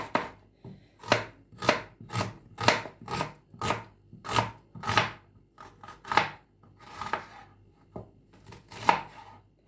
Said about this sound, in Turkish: Soğanları böyle birazcık iri iri doğrayacağım.